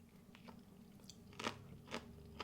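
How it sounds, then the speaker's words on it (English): Crispy baked spicy miso chicken wings with sticky skin being bitten and chewed, with three sharp crunches of cartilage over a low background hum, close and fairly quiet. "I love that crunch from the cartilage."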